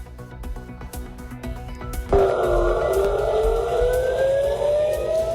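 An air raid siren sounds across Israel during an Iranian missile attack, first silent, then a loud wailing tone begins abruptly and holds steady while slowly rising in pitch, heard from a distance over background noise.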